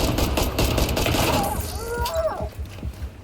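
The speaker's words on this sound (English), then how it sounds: "Even with the pistol, I'm doing some damage." Pistol gunfire in The Division 2 video game: a dense run of quick shots rings out in the first half, with game effects and a brief whooshing tone following as the firing thins out.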